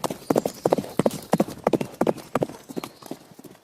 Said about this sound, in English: Clip-clop, clip-clop, clip-clop.